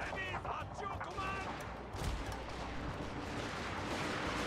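Volleys of line infantry musket fire in Shogun 2: Fall of the Samurai, a steady crackling fusillade with a heavier thump near the middle and a voice speaking over parts of it.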